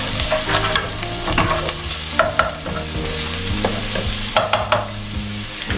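Onions frying and being stirred in a pan for restaurant-style Hakka noodles, with steady close sizzling and repeated scraping clacks of the utensil throughout, no talking.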